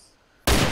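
Gunfire from the video game DayZ bursts in abruptly after near silence, a loud dense volley of close shots filling the last half of the moment.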